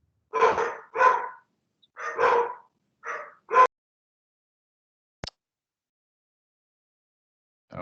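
A dog barks alone in a quiet room, about five sharp barks in an uneven cluster, followed by a single click and the start of another bark at the end.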